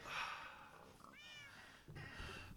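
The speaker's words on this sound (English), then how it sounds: "There's a kitty." A Minecraft cat gives a short, rising meow near the middle, set between brief bursts of game noise and a nearby voice at the start and end.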